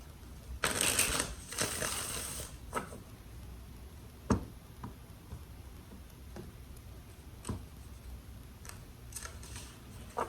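A single riffle shuffle of a tarot deck gives a papery rattle of about two seconds, followed by a few sharp taps and light knocks as the cards are squared, with no speech.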